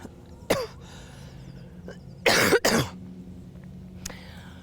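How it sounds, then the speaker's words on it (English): A yoga instructor coughs during a fitness class: a sharp single cough, then a louder double cough, with smaller throat sounds between, close and clear in an otherwise quiet room. "sorry for my cough"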